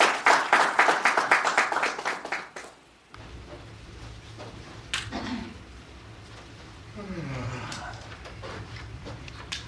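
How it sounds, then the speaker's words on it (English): A book launch audience claps for arriving performers, a loud burst of many hands that fades out within about three seconds, followed by quieter room sounds and scattered faint noises. "Let's give them a round of applause as they come."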